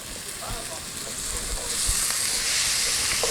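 Sausage browning in a pan for a red gravy gives a steady, close frying sizzle that swells louder partway through, with a few faint utensil taps.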